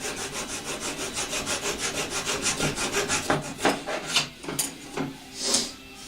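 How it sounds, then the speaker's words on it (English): A small hacksaw cutting wood on an RC plane, a close, rhythmic run of rasping back-and-forth strokes that slows into a few heavier, uneven pulls, alone without speech. "a little hacksaw for wood"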